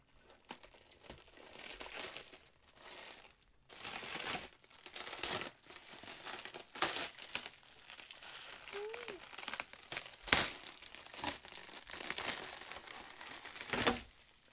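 Plastic wrapping is pulled and torn off a Losi LMT RC car box, producing close, irregular crinkling, crackling and ripping bursts that keep going throughout, with brief quieter pauses between pulls.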